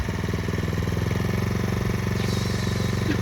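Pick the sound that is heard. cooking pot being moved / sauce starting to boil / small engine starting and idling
small engine starting and idling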